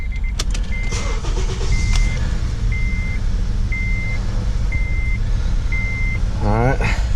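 A Honda or Acura car engine with a cylinder 2 misfire runs steadily at close range, a low rumbling idle under a repeating electronic chime that beeps about once a second, with a brief rising whir near the end.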